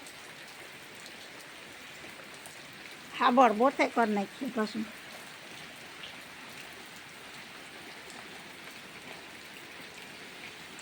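Rain falls on farm fields in a constant, even wash of patter. A person speaks briefly in the middle while the rain continues underneath.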